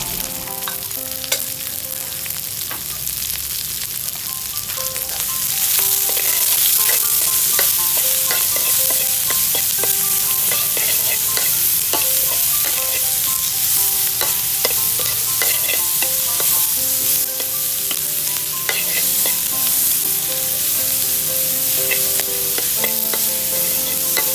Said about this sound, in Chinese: 我们炒到烧辣椒的香味出来，然后放200克的洋葱，再来50克的大葱哦。